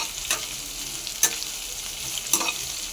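Crushed garlic and onions fry in a pan for poori masala, giving a continuous close sizzle broken by three brief spoon scrapes against the pan.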